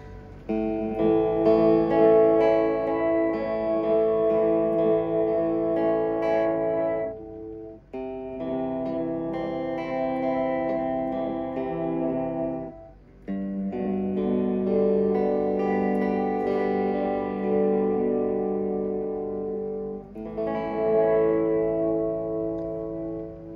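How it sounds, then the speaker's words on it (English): Sustained electric guitar chords through a Fender Reflecting Pool pedal's reverse reverb swell in and fade with a washed-out, backward-sounding ambience, each phrase cut off before the next rises, no talking. "that is supposed to have the reverse reverb"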